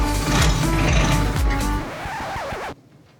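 A diesel engine with preheated glow plugs cranks and roars up briefly in loud, uneven bursts, then sags and shuts off abruptly after an underspeed fault, leaving near silence.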